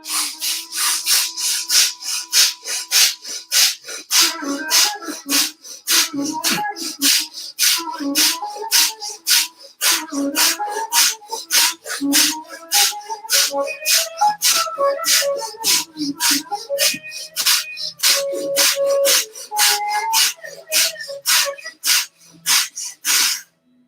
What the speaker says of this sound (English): Inhaling and exhaling strongly and fast, making a sound just like I'm doing now.